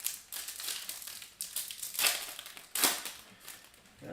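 A deck of hockey trading cards being shuffled by hand, giving soft papery riffles and crinkly bursts in irregular clusters, quiet and close with no talking.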